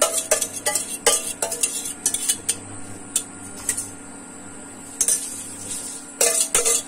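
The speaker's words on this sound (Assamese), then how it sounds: "মই লৰাটোক দিছো, অকমান লৰাই আছে" A spoon stirring a boiling egg and paneer mixture in a home kitchen pan, with repeated scraping clinks against the metal and a steady bubbling hum underneath, no talking.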